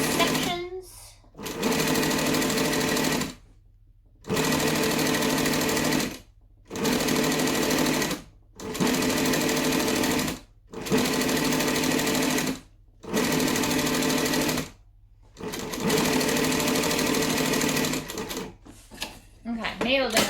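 A cylinder arm sewing machine stitching a business bag runs in a string of close, loud bursts of rapid needle clatter, each lasting a few seconds and split by short pauses as the work is pivoted.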